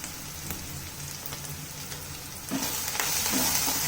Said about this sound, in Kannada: ಇದನ್ನೆಲ್ಲನೂ ಚೆನ್ನಾಗಿ ಫ್ರೈ ಮಾಡ್ಕೊಳ್ಳಿ.